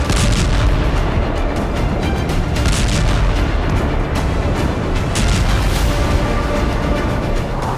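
Heavy continuous blasts and rumbling booms from a Russian bomber strike on a weapons depot in Pavlohrad, loud and dense throughout with repeated bursts layered over a constant roar.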